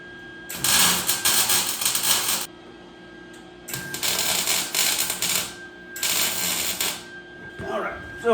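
A welder tack welds a Dodge Ram long bed Mega Cab truck bed panel, with three bursts of harsh crackling buzz, each lasting one to two seconds, separated by short pauses, close and loud.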